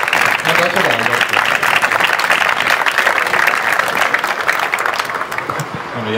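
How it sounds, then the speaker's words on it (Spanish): An audience applauds Alberto at a poetry reading at the Biblioteca Regional, clapping loud and steady through the whole stretch, with some voices mixed into the crowd noise. "Un aplauso para Alberto."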